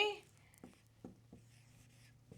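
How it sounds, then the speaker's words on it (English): A marker scratching out a few short strokes on a board in a quiet room, faint separate squeaks spaced apart after a brief voice at the start. "I'm going to get my marker and I'm going to write that today is Friday"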